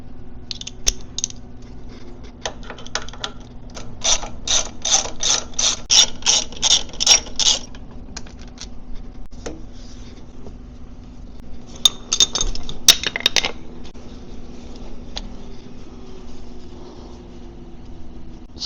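Plastic wire connectors on a Harley-Davidson Sportster 48 regulator are worked loose, giving close, crisp clicks and rattling snaps in quick bursts with quieter pauses between.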